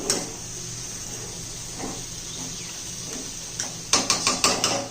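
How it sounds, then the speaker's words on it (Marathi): A lid goes onto a pot of biryani chicken. Quiet cooking hiss comes first, then a quick run of five or six metallic rattling clatters near the end. "आता त्याला झाकण लावून"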